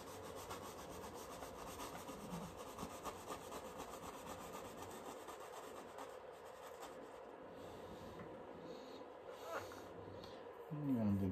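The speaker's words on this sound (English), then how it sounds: "And I'm just going to scrub this in." A paintbrush scrubs burnt sienna paint onto canvas with a soft, continuous rubbing texture, fairly quiet and close, ending in a brief louder scuff.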